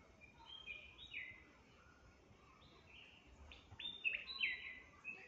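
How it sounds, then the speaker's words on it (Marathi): Birdsong outdoors on an evening walk, with several bright chirping calls in short bursts near the start and a livelier run of calls near the end, moderately close over quiet background hiss, with no talking. "पक्षी ओरडतो छान"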